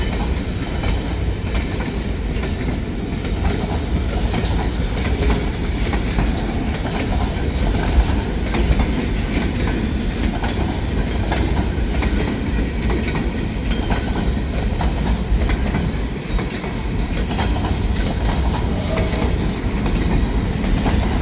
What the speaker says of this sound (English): Well, the train's a little longer now with the gondolas out front.